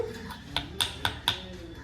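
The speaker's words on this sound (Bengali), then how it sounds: "ডিমের কুসুমের মধ্যে আমি চিনি দিয়ে এটাকে ভালো করে মিশিয়ে নিচ্ছি" Egg yolk and sugar mixed in a bowl for a home cake, four evenly spaced sharp clinks of a utensil against the bowl over a soft background.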